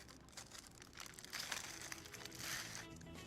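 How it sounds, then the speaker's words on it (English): A large zippered plastic bag holding salt and ice crinkles and crunches steadily at close range, with denser rustling bursts toward the middle and end and no talking. "we just put the salt in with the ice in a large zippered bag"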